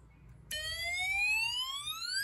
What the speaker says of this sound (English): You hear a loud fire engine siren.